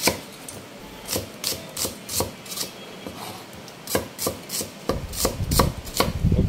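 An onion being chopped with a knife on a board, in quick rhythmic strikes at a steady pace that grow denser and busier toward the end, close and clear with no talking.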